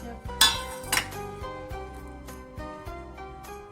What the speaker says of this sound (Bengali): এবার টিফিনটা খুলে নেওয়া